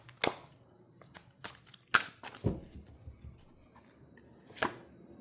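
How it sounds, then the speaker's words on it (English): Tarot cards being shuffled by hand: a quick series of sharp riffling slaps and bursts, close and fairly loud, with quiet gaps between them. "Shuffle that quick."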